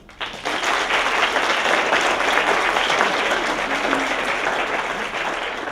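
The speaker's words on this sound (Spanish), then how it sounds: "Aplausos." Audience applause fills a conference hall, sustained and fairly loud from start to finish, a dense wash of many hands clapping with no speech over it.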